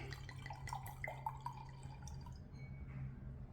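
Meadows Estates Grenache red wine is poured into a glass: quiet, close trickling and splashing liquid with small drip-like plinks for a few seconds, fading near the end.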